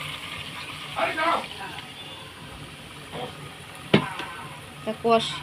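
Chicken pieces sautéed with a little water in a pan give a low, steady sizzle and hiss beneath someone speaking, with occasional spoon scrapes and clinks.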